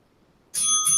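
A workout interval timer bell rings out clearly after a short silence, a bright metallic ding with a sustained ringing tone and a second strike near the end, loud and close.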